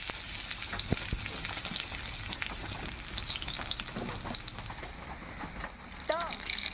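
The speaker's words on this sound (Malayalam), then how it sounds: "ചെറുതായിട്ട് അരിഞ്ഞു വെച്ചിരിക്കുന്ന ഉള്ളി ചേർത്ത് കൊടുക്കാം" Finely chopped onion crackles and sizzles in hot oil in a pan for an Onam-style ripe banana pulissery, a steady close frying hiss with scattered pops and stirring scrapes, while a voice talks faintly near the end.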